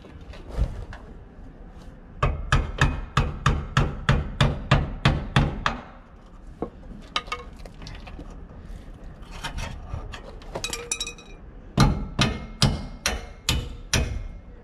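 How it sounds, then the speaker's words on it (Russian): Fastening a mudflap onto a GAZelle NEXT van by hand, with a long run of steady, evenly spaced hammer blows, then scraping and rubbing, then a further quick burst of blows, all close and loud with no talk. "Ты гвозди забиваешь?"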